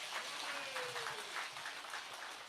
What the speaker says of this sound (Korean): 이거 박수 한번 치셔야 돼요